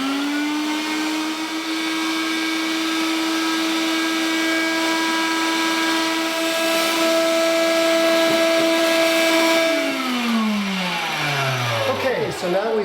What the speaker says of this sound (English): then I'm going to pass it through the meat grinder